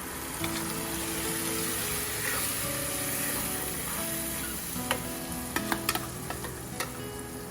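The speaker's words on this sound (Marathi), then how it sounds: "आणि ही ढवळत राहायची आहे" Tomato paste stirred in a sizzling pan while cooking tomato chutney to go with palak puri, a steady fry hiss with scraping spoon strokes and a few sharp clinks near the end.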